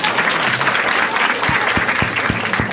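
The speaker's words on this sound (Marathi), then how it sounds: "ठीक आहे एकदा टाळ्या वाजवा दोघांसाठी." Stand-up comedy audience applauding, a dense, steady wash of clapping from the crowd that holds at full strength throughout, with a few low thumps mixed in.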